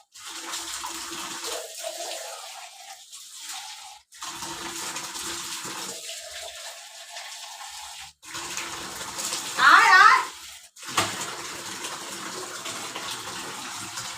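Tap water running steadily while a dog is bathed indoors, a continuous gushing wash with brief stops and a louder splash partway through, with faint voices in the background.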